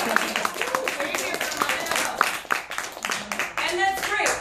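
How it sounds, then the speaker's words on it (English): Comedy club audience clapping for a comedian's mother, brisk scattered applause with cheering voices and talking over it, fairly close. "Clap for my mom."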